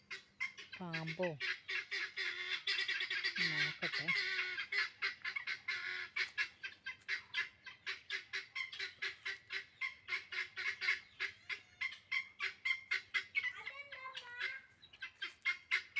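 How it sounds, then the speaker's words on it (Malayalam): Chickens squawk and cackle loudly in agitated, repeated bursts, with a few harsher alarm calls; a voice speaks briefly. "ഇനി കോഴിക്കൾ ഭയങ്കര കരച്ചിലാണ്"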